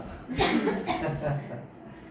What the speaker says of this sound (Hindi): कोई लड़की को लगी खांसी